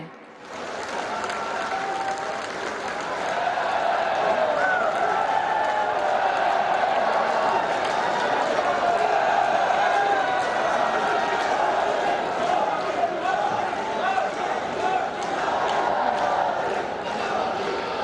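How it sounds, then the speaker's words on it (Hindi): A large crowd at a public event with Prime Minister Narendra Modi, where applause and cheering swell after a brief pause into sustained, roaring clapping mixed with shouts and chants, continuing loudly for many seconds. "आइए तालियों की गड़गड़ाहट और जय घोष के साथ उनके ऊर्जावान संबोधन के लिए आमंत्रित करते हैं"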